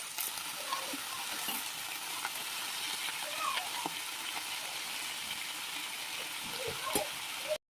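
Fenugreek leaves dropped into lightly fried onions in a pan set off a soft, continuous sizzle with occasional stirring clicks and scrapes, fairly quiet and steady.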